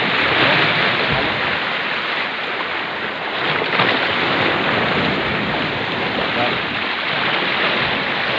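Ocean waves washing onto a shore by a bathing area, a loud, steady broadband rush that never lets up and may be mixed with wind.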